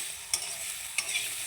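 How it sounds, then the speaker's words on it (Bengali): Vegetables fry in oil with a soft, even sizzle, punctuated by two short clinks of a utensil against the pan; no talking. "তো এটা ভাজা হোক, তারপরে তোমাদের দেখাচ্ছি।"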